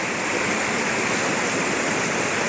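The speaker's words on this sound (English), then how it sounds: "I'm at this creek," Milk Creek on the Pacific Crest Trail, swollen after two days of rain, rushes steadily and loudly in a dense, unbroken roar near Mount Jefferson, with no voices.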